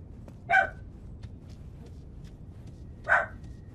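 A pet dog barks twice, a few seconds apart, each bark a short, fairly close burst over a steady low background hum.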